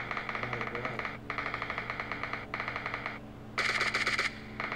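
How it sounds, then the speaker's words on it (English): Automatic gunfire in PUBG Mobile crackles in quick repeated bursts, four clear strings of rapid shots separated by brief gaps, moderately loud with a low background hum and no talk. "What are you shooting at?"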